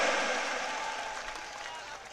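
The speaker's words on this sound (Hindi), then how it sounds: "जोरदार तालियां बजाकर स्वागत करें" A crowd at a political rally in Baytu claps to welcome a speaker, a steady, fairly loud wash of applause that fades slightly over two seconds, with no voices over it.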